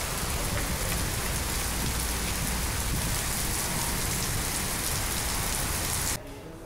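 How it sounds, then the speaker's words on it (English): Steady, heavy rain patters continuously on a surface, a dense hiss that stops suddenly near the end. "raining outside."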